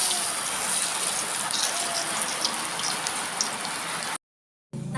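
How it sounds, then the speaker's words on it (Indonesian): Steady rain pours down outdoors during home cooking of fried breadfruit, a dense close hiss of drops on surfaces that runs unbroken, drops out into brief silence near the end, then resumes. "Hujan loh,"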